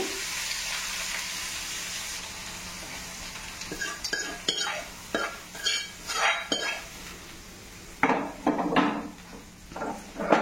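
A spoon stirs mint chutney after a hot tempering has been poured in, giving repeated scraping and clinking strokes against the pot over a faint sizzle, growing busier toward the end.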